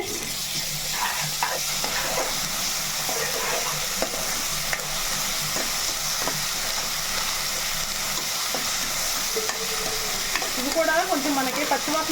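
Ginger garlic paste fries in a pan for boti curry with a constant, fairly loud hiss, while occasional scrapes of stirring run through it and no one speaks.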